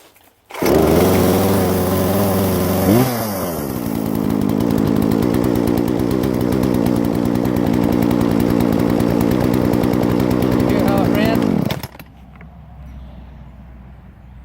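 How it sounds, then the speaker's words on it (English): A chainsaw starts with a loud roar, then runs steadily at a higher idle, as it does until the throttle is pressed, for several seconds before cutting off abruptly, leaving near silence. "This chainsaw, until you hit the accelerator, it will actually run a higher idle."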